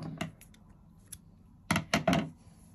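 Scissors snipping crochet yarn after finishing a bikini strap, a few close, crisp cuts, with a faint click early on and then three quick snips near the end.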